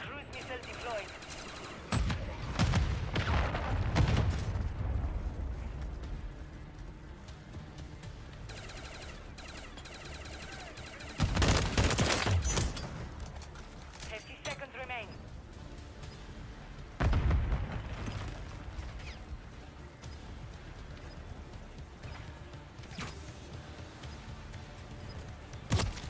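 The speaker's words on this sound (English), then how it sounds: "Friendly cruise missile deployed." Video game cruise missile strike, a long spell of loud, dense rumbling explosions and crackling blasts that rise and fall in several heavy surges over continuous battle noise.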